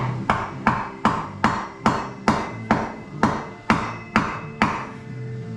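A steering column part for a 1977 Buick Regal is driven on by hammer blows through a wood block, about ten even, solid thuds in a steady rhythm, close and loud.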